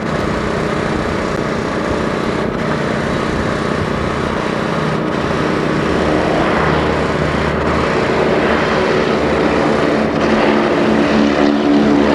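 A propeller airplane takes off at the 1986 Daytona Beach Skyfest air show, its engine droning steadily and loud throughout with a broad, unbroken roar.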